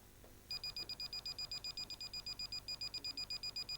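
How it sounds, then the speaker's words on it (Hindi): Gas detector alarm during confined space training, a rapid steady series of shrill electronic beeps pulsing evenly, fairly loud and alone. "तो ये इसमें अलार्म बजना शुरू हो"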